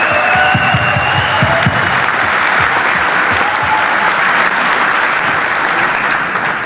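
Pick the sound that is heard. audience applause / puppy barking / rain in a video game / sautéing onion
audience applause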